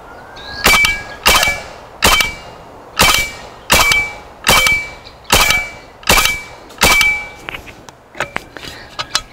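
A GHK AKS-74U gas blowback airsoft rifle fires outdoors in a steady series of about ten sharp, loud cracking shots with metallic clang, evenly spaced, followed by a few quicker faint pops at the end.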